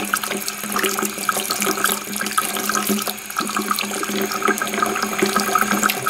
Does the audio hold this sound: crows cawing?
no